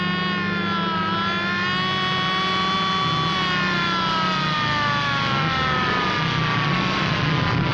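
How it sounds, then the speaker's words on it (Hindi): A police siren in a Hindi film comedy scene wails loudly and continuously, its rising and falling tone sweeping over a low engine rumble for the whole stretch. "और ये सायरन है, ये कर रही है पुलिस हवा से बातें।"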